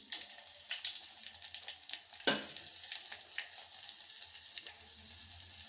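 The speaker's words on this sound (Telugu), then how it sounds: "ఆయిల్ హీట్ అయిందండి. ఆవాలు జీలకర్ర వేసుకుందాం. ఎండుమిర్చి," Mustard seeds, cumin, dried red chilli and garlic sizzle steadily in hot oil as a tempering for dal, with crackling pops and one sharp spatter burst; no voices.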